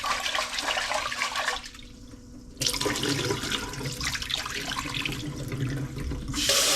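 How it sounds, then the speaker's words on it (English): Rice is rinsed under a running kitchen tap as water gushes steadily into a sink, with a brief quieter dip midway before the stream splashes fully again. "Wash the rice 3 to 5 times."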